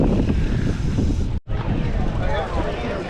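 Steady wind buffeting the microphone on a paved, flat, shaded trail before a gravel bike race, a loud continuous rushing roar with one brief dropout.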